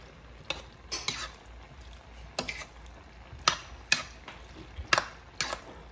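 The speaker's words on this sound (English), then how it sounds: "I'm just giving it a little stir" A spoon stirs creamy sauce through elbow noodles in a pot, giving a series of soft, irregular scrapes and clinks spaced across the moment, close up and moderately quiet, with no talking.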